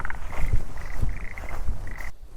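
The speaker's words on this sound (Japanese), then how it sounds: "さっきからめっちゃカエルの鳴き声するなって思ってたんだけど" Frogs croak repeatedly in a marshy pond at a campground in Gunma, Japan, with several close, loud rhythmic calls in steady succession against quiet surroundings.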